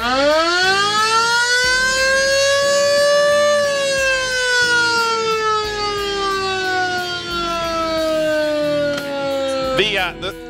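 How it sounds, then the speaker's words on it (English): A car-mounted mechanical siren on a show car at a car show winds up to a high wail, then slowly droops in pitch over several seconds, ending with a brief rattling clatter. "The siren is just in case you don't get enough attention with the car, right?"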